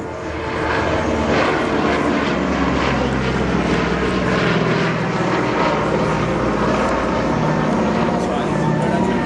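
Four-engine WWII aluminium aircraft with 1200-horsepower engines flying, a loud, steady propeller-engine roar with a low droning hum throughout, alone and close.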